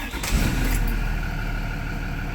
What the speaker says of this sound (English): I'm going to start the bus.